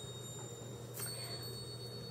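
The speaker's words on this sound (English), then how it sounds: "if you hear the chimes chinging in the background" Wind chimes ring softly in the background of a room where crystals are shown, a brief faint metallic tinkle over a steady low hum.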